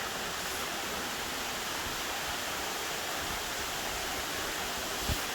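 Steady, full-bodied rush of falling water at Horseshoe Falls Reserve in the Blue Mountains, heard close from a cavern behind the waterfall, constant and unbroken with no voices.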